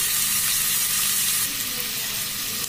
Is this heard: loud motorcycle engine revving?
no